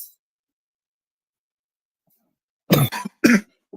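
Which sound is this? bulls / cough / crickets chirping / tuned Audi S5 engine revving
cough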